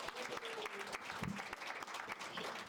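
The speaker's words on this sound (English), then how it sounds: "You should give yourselves another round of applause." An audience at a school AED project event gives a round of dense, steady clapping that stays quiet and fairly distant throughout, with no talking over it.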